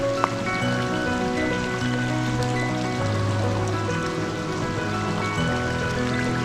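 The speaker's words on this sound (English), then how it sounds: "Look at this beautiful, just basically a drip waterfall." A small drip waterfall trickles and patters steadily beside a creek in a redwood canyon, a continuous close wash of falling droplets with no voices.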